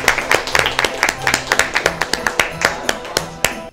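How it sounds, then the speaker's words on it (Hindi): An audience at a Catholic gathering claps for couples called to the front, a steady rhythmic clapping with sharp distinct hand strikes, fairly close and loud, with little talk. "तो फिर तालियां बजा दें उनके लिए"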